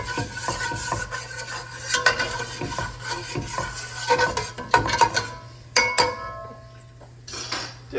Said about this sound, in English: We're going to deglaze. Oh, red wine, whatever you're drinking will work. Scrape up all of that goodness.